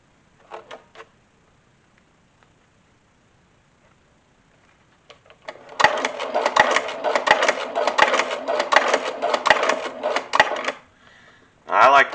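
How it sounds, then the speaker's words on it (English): A sewing machine stitches a lanyard phone case made with alligator hide. A brief burst comes first, then a long run of rapid, even clattering stitches close by, ending with a short final burst. "And then I can lower the presser foot and go forward again."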